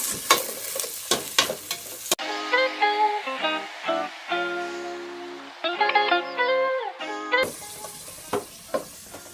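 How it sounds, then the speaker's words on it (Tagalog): Chicken liver sautéing in a pan for an oyster-sauce chopsuey: a steady close sizzle with stirring scrapes at the start and end, while music fills the middle stretch. "Para maigisa na po ang ating atay."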